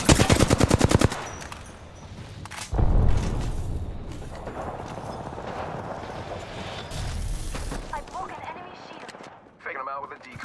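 Rapid automatic weapon fire opens loudly in Apex Legends, followed by a booming blast and scattered battle noise, with a player talking over parts of it.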